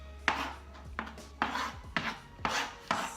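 A knife chops food finely on a board for grilled wild cod, six crisp strokes at a steady rhythm, close and alone.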